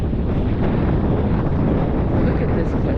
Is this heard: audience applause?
no